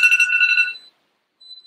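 A phone timer alarm chimes, a short bright ringtone phrase that stops abruptly, then a thin tone returns after a brief silence, close and clear.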